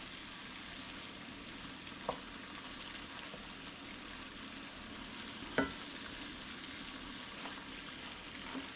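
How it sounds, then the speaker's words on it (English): Homemade Swedish meatballs frying in a pan, a soft steady sizzle heard from close by with a couple of light knocks as they are turned. "Cooking them up, cooking them up. And then give it a little spin. Just let them cook."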